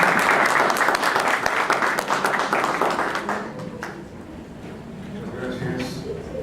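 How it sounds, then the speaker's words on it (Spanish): Audience gives a loud welcoming round of applause at the start of a lecture presentation, dense clapping that gradually thins and fades out, followed by quieter room sound and a faint voice. "Un fuerte aplauso como bienvenida a nuestra exposición"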